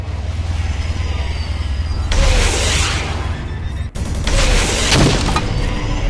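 Rocket launcher explosions in the Overkill 3 shooter game, two loud broad booming blasts, one after the other, over a steady rumbling backdrop of constant battle noise.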